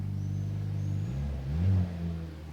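A 2023 Mercedes C43 AMG engine and exhaust hum steadily from outside the car, then rise in a brief rev-like swell before settling, moderately loud.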